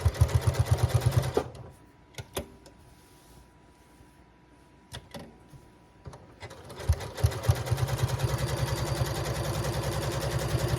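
A sewing machine stitches around a raw-edge Halloween applique in white thread, running in rapid bursts at the start and end with a quiet pause between as the fabric is lifted and turned, marked by a few sharp clicks and handling noises.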